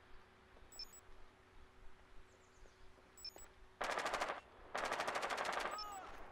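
Automatic gunfire in a Rainbow Six Siege match, two long bursts of rapid rhythmic shots in the second half, loud and close, after quieter game ambience with faint beeps.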